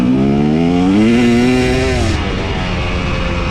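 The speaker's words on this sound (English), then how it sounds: "there's the fourth gear from a low RPM pull" A motorcycle engine fitted with a TSP head and tune pulls hard in fourth gear from low RPM, its loud, close drone climbing steadily in pitch before easing off into a rough, steady roar.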